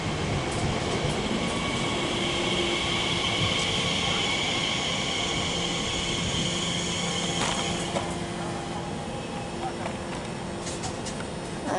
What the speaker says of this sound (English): the next train to pull in will be an Elizabeth line service going towards Terminal 4 from Abbey Wood, operated by 345027